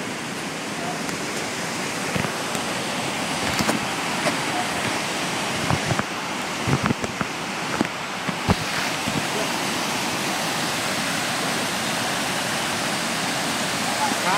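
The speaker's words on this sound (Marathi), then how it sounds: "कुंडलिका व्हॅलीमध्ये असे असंख्य धबधबे येतात" Steady rushing water roars throughout from a waterfall in the Kundalika Valley on the Andharban trek, broadband and continuous, with a few faint clicks and knocks over the top.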